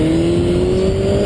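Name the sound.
sport motorcycle engine revving for a wheelie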